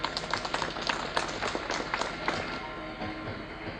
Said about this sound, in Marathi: सर्वांनी जोरात टाळ्या वाजवून